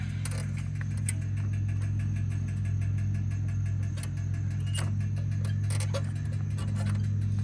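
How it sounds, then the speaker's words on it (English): A riding mower's small engine idles steadily up close, a low, even rumble with faint ticking and rattling over it throughout. "Sounds a little bit like a hit and miss engine."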